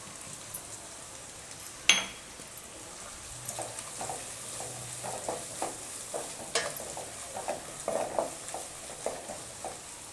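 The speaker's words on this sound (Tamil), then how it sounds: "பச்சை மிளகாய் நல்லா வதங்கட்டும் ஒரு 2 நிமிஷம் வதங்கினா போதும்" Green chillies sautéing in a pan for a goat blood fry, with a soft, steady sizzle and light scraping stirs throughout and a sharp clack of the utensil on the pan near the start.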